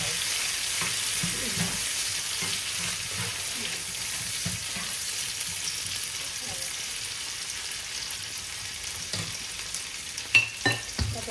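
Cherry tomatoes frying in a pan for a fresh pasta dish, a steady close sizzle with stirring clicks and scrapes, a few sharper knocks near the end.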